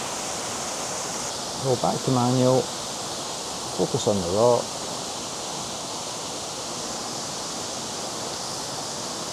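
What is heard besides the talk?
waterfall flowing into a pool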